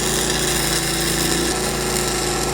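Welding a torsion axle on an enclosed trailer produces a loud, continuous buzzing crackle close by, sustained without pause and with no voices.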